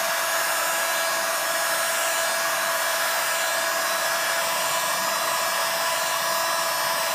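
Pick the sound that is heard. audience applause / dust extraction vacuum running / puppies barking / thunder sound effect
dust extraction vacuum running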